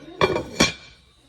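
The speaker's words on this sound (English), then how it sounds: "I'm just gonna spread it around the top, pop the lid on, and let it simmer for a little bit." A lid is set onto a pot of green chile enchilada chicken soup, giving two quick metallic clanks close by, the second ringing briefly before fading to quiet.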